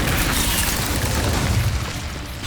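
A fire spell, Incendio, cast in Hogwarts Legacy, giving a steady loud roaring whoosh of flame with a deep booming low end that runs for about two and a half seconds with no talk.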